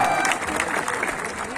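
A crowd at a village wrestling bout claps for the winning wrestler in a short burst of dense, continuous applause.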